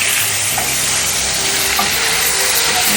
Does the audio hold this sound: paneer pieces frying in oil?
yes